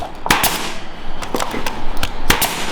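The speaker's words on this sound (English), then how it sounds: "And you get that nail gun?" Nail gun tacking a fence onto a plywood bench hook in a workshop: three or four sharp, loud pneumatic bangs spaced irregularly over a low steady background.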